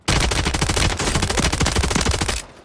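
Rapid automatic gunfire from the video game Call of Duty rattles in loud, dense bursts, nearly continuous for over two seconds before cutting off abruptly.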